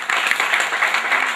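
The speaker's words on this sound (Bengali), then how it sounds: "হাততালি দেওয়ার জন্য" A festival audience at a Bangla folk theatre festival gives a short burst of dense, loud applause from many hands.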